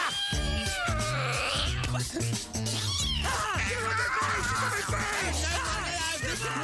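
A cartoon cat meows and caterwauls in loud, drawn-out wailing cries over a steady, busy musical score that runs the whole time.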